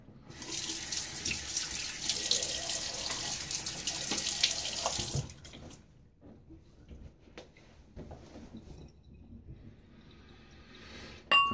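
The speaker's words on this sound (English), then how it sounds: "let me throw a little bit of water on my face." A bathroom sink tap runs with a bright, hissing stream for about five seconds before shutting off, followed by quiet splashes, drips and small clinks as water is thrown onto a face, with a louder knock at the very end.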